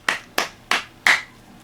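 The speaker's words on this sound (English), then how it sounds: "5 claps total, the full Monty." Four sharp hand claps ring out alone in a steady, evenly spaced rhythm, each crisp and close, with the last one slightly louder and longer.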